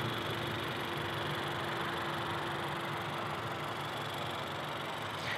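A 2018 Honda CR-V EX-L 1.5 liter turbocharged four-cylinder engine idles steadily with an even, low hum and constant drone, close by and unchanging, with no talking.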